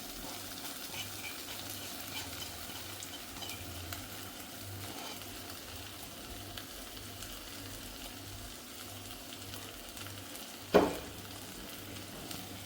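Chilli paste of roasted, ground dried red chillies sizzles steadily as it is sautéed in a pan for a Kerala-style mackerel fish curry, a constant low frying hiss with one sharp clatter near the end.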